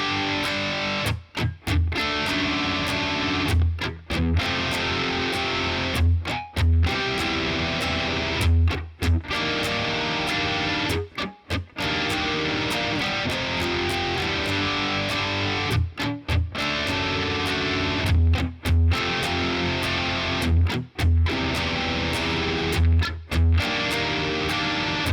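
Verse chords strummed on guitar, a steady, full, bright wash of chords with brief regular breaks between phrases, played alone for a long stretch.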